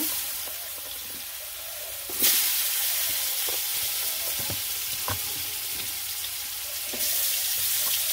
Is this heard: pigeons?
no